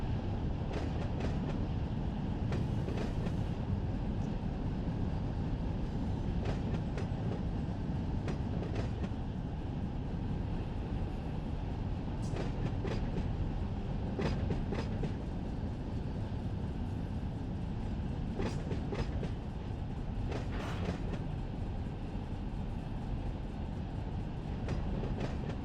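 A freight train hauling tank cars rolls steadily in the Run 8 Train Simulator game on the California Fresno to Modesto route, giving a continuous loud rumble with periodic wheel clicks over rail joints and no talking.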